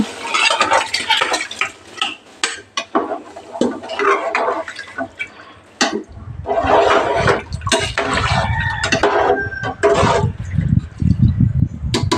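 Coconut milk and water are poured onto soaked rice in a pot, giving a splashing, gurgling stream that grows fuller and louder halfway through, with clinks of utensils before it.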